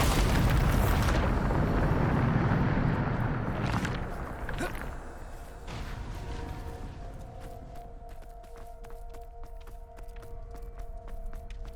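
A Bombarda blasting spell in Hogwarts Legacy sets off a loud, deep explosion at the start that slowly rumbles away, followed by scattered debris clatter and faint ambient tones.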